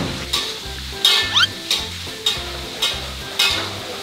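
Pork cracklings fry in hot oil with a steady close sizzle, broken by a regular series of louder scraping bursts as they are stirred about once every half second.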